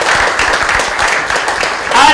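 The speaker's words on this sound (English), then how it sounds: "Let's have a round of applause for that." Audience clapping at a banking quiz national final awards presentation, a brief burst of many hands, fairly loud and close, lasting about two seconds.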